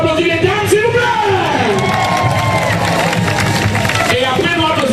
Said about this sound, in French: est-ce qu'on peut applaudir les dames, s'il vous plaît?